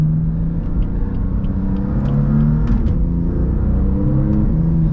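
BMW M4 CS engine accelerating at quarter throttle, a loud, close deep rumble with rising and shifting engine tones under steady road noise, no talk.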